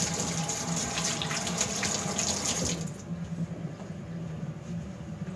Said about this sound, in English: Constantly washing hands, of course.